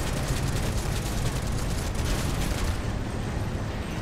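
Dense, continuous rapid gunfire from Final Fantasy VII Remake gameplay, a steady loud crackling barrage with heavy low rumble and no clear pauses between shots.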